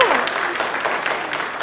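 Audience applause fills the space as a dense, steady wash of clapping, loud and continuous throughout.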